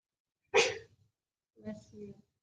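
A single sudden sneeze, a sharp forceful burst close to the mic, followed after a pause by a softer voiced sound in a quiet room.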